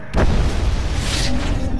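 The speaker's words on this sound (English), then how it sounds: "Oh my god, that explosion was huge." A huge explosion in the Mass Effect video game, a loud, dense blast that starts abruptly and rumbles on heavily with crackling debris for nearly two seconds.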